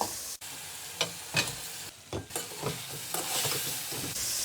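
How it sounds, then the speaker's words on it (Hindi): Fried chicken dropped into cooked masala in a karahi for chicken karahi, with a loud burst of sizzling and frying plus stirring scrapes that settle into a steady hiss. "अब हमने जो चिकन फ्राई किया था वो डाल देंगे"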